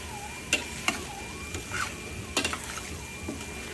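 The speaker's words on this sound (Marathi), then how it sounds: "पुन्हा आपण हे मिक्स करून घेऊया" A spoon stirring cooked shravan ghevda flat-bean bhaji in a pan, soft scraping and a few sharp clinks against the pan over a faint steady hiss.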